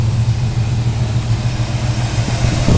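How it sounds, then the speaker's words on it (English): A cold car engine idles smoothly with the hood open, a steady low hum with even pulses and no clanking, close and alone without voices. "Just a nice, smooth running motor."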